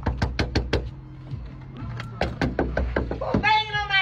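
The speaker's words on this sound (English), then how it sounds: "Who's banging on my damn door like" Loud, hard knocking on a door: a quick run of five heavy bangs up close, then a pause and another uneven burst of pounding, with a voice speaking over the later knocks.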